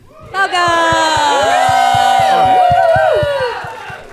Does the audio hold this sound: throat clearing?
no